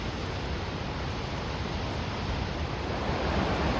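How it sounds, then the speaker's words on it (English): A raging river rushes beside a muddy forest trail on the Bowron Lakes kayak circuit, a steady close broadband roar of churning water that stays loud and unbroken throughout. "We can hear the river raging beside us."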